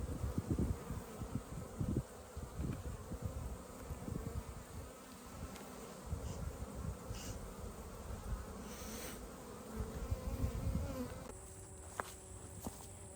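Honey bees buzz in an apiary bee yard in August, a dense, continuous drone of many wings close by that swells and fades as individual bees pass, with no voices.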